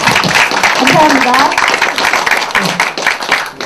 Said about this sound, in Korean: 그럼 우리 박수로 시작할까요?